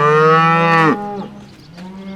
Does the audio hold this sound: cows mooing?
yes